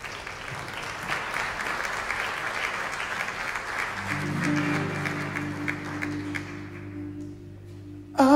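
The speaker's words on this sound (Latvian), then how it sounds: "Jūsu aplausi" An audience at a Christmas theater show in Rundāle Palace claps steadily after a magic trick, the clapping fading as sustained musical tones enter, with a brief voice at the very end.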